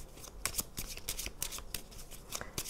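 A 32-card deck is cut and riffled on a table, giving a quick run of crisp, papery flicks and slaps that repeat unevenly and fairly close by, with no talk over them.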